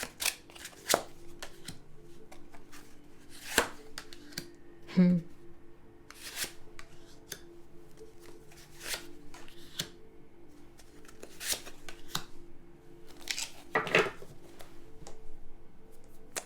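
Tarot cards shuffled and handled at close range, with repeated crisp riffles, slaps and flicks scattered throughout, some louder bursts standing out over a quiet background, with a voice occasionally present.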